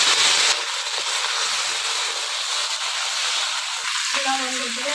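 Flat beans tossed into hot oil tempered with five-spice seeds give a loud, continuous hiss and sizzle close up, with a brief burst of clatter at the start and faint tonal sounds near the end.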